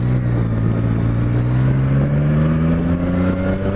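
A motorcycle with its exhaust baffle refitted drones steadily up close, engine note rising smoothly as it accelerates under load, loud and continuous throughout.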